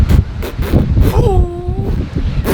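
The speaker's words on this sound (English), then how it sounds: "It's really windy" Strong wind buffets the microphone by a penthouse pool in Cancun, Mexico, in low, rumbling gusts, with a brief whistling tone rising and falling in the middle.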